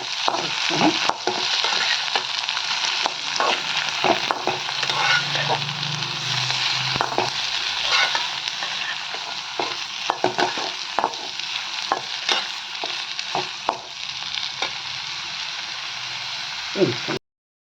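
Red chillies, green chillies and tomatoes fry in a pan for masala dal, a continuous bright sizzle with frequent stirring scrapes and knocks.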